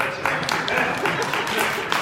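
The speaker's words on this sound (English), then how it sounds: "you can clap" An audience gives a short, moderate burst of applause at a Democratic candidate debate for Ohio's 12th district, with a voice partly over the clapping.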